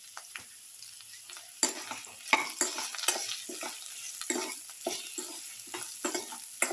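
A spoon stirs salt through a garlic, okra, tomato and rice casserole in a pot, with scraping strokes and soft clinks in an irregular rhythm over a low sizzling background.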